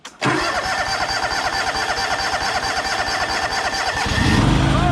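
A John Deere LX188 lawn tractor engine cranks briefly, catches and settles into a steady, close, loud chugging idle that keeps running to the end.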